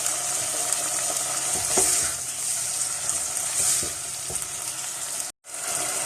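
Tomatoes and onions frying in a pan with chillies, salt and oregano, a steady close sizzle with a few light stirring scrapes, briefly cutting out near the end.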